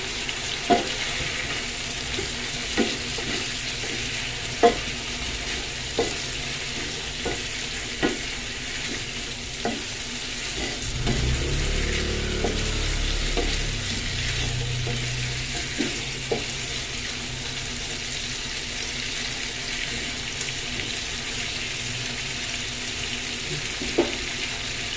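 Chicken for afritada sizzles steadily in a hot pan while a utensil clacks against it every few seconds; a short burst of running water joins midway.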